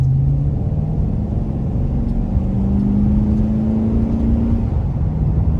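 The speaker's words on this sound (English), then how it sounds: "Just gonna give a little acceleration here." A 2020 Chevrolet Express 2500 4x4 van with a 6-liter gas engine accelerates, a steady low rumble with a slowly rising engine tone, heard from inside the cabin, with no voices.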